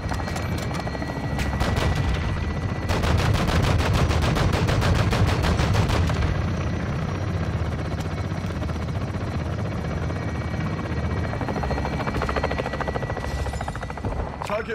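Rapid automatic gunfire crackles in Call of Duty Modern Warfare II over the steady roar of a helicopter, with dense bursts in the first six seconds and sparser shots afterward.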